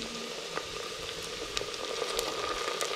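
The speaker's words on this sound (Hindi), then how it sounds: "अब इसके अंदर मैं ये टमाटर कटे हुए डाल रही हूँ" Chopped tomato and green chillies hit onion, ginger and garlic frying in a pan for a winter cauliflower (gobhi) dish, producing a steady, soft sizzle with small scattered pops at close range.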